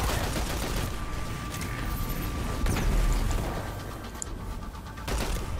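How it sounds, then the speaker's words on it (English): Rumbling explosions and gunfire from the video game Destiny on Nessus crackle in dense bursts, with a heavy boom near the middle that fades out, then a fresh burst at the end. "I like delicious explosions."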